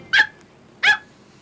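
Dog barking in a 1998 TV mortgage advert: two sharp, loud barks about half a second apart, close by and alone with no talk.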